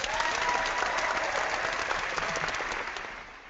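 Audience applause on a Survivor: Cagayan feedback show, an even wash of clapping that runs steadily and tapers slightly toward the end, with no talk over it.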